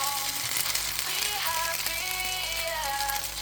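Homemade ham frying in a pan while special fried rice is made, giving a steady, close, continuous sizzle with no voices.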